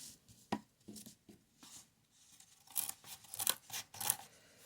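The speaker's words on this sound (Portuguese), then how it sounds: "E bora lá cortar esse papelão." Cardboard being cut after marking a line on a box, giving crisp snipping and crunching strokes in irregular bursts that grow louder and denser toward the end, with no talking.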